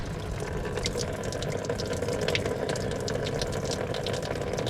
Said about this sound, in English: Draining the coolant out of it, so I'll just let that drain.